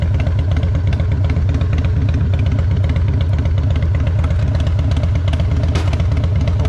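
A Harley-Davidson Fatboy motorcycle engine runs steadily at idle, a loud, close, continuous low throbbing rumble with a fast regular pulse and no speech.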